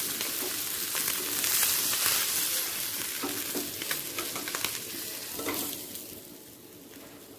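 Parshe fish frying in a pan of hot oil, stirred with a steel spatula, a continuous bright sizzle with occasional scraping and clinks of metal, close and fairly quiet throughout.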